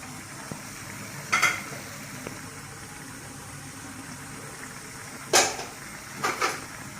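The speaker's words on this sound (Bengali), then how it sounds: "আমি এখন টমেটো দিয়ে দিলাম।" Chopped tomatoes go into a pan of bailla fish curry over low, steady sizzling, with a few clinks and scrapes of a spoon against the pan at intervals.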